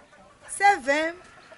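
A single chicken on a small farm in Togo gives a short, close cluck with a rising-falling call, alone against quiet background.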